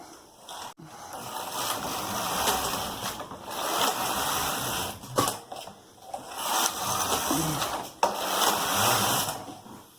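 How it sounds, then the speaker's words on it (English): A knitting machine knitting rows of a hem, its carriage swept back and forth in long rushing, whirring passes separated by brief pauses and a few sharp clacks, loud and close, with no talking. "now I'm going to knit 28 rows of the main color at main stitch size minus 1."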